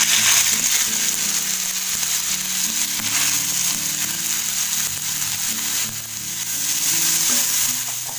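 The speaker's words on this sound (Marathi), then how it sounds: "आता बघा तेल झालं असेल गरम, त्यात आता आपण टाकूया आणि हलकीशी फक्त परतून घेऊया तेलामध्ये" Karvanda chutney with chilli and garlic sizzles steadily as it fries lightly in hot oil, a dense, continuous crackle near at hand with occasional stirring scrapes throughout, no voices.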